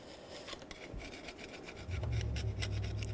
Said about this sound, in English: Just scrape any excess gasket material.